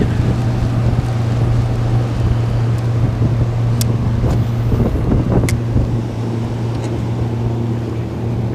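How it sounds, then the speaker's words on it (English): Steady wind buffeting the microphone outdoors beside a river while fly fishing, a constant loud rush with a low hum beneath it and a few faint clicks, no talking. "there's that friendly wind"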